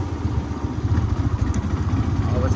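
A motorcycle engine runs with a steady, close throbbing rumble and some rattling clatter, as if idling or pulling away on a hill road.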